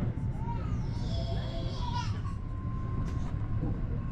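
Inside a moving Merseyrail or TfW train between Liverpool and Chester, a steady low rumble fills the carriage while faint chimes and distant children's voices drift through.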